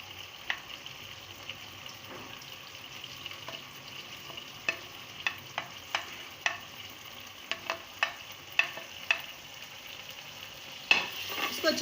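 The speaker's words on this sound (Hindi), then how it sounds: "इसको थोड़ा सा भून लेंगे और फिर अब हम इसमें भिंडी डाल देंगे।" Okra frying in a pan with masala being stirred, a soft steady sizzle punctuated by repeated light scrapes and clinks of a spoon, close and fairly quiet.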